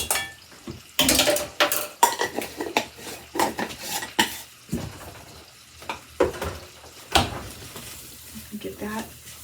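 Flour being stirred into sautéed onions in a pot with a utensil, giving repeated scraping and clinking strokes against the metal, loud and close, with occasional soft sizzling and a voice talking now and then.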